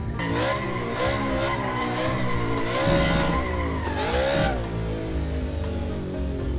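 A powerful car drifts in circles with tires squealing in long, wavering screeches over a steady engine drone, loud and continuous throughout.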